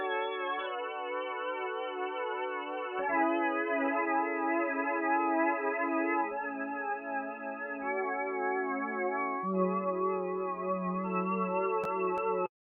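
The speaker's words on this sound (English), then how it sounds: "which was layering those chords with this synth organ sound" Synth organ with a jazz organ preset playing layered sustained chords in an indie pop arrangement, four held chord changes with a slight echo and reverb, steady and clean before cutting off.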